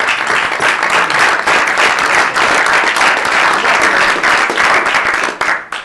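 A room of listeners at a White House cabinet meeting breaks into sustained applause, dense loud clapping that holds for several seconds before tapering at the end.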